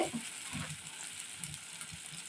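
Garlic cube dropped into a pan of curry sizzles with a steady, soft hiss and faint crackle, frying continuously at low level with occasional small pops.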